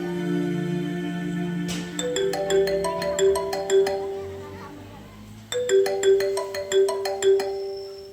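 A phone ringtone plays a bright electronic melody twice during a school students' play, its chiming notes repeating clearly over a soft background hum.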